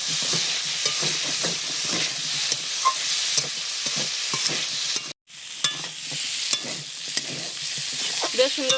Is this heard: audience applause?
no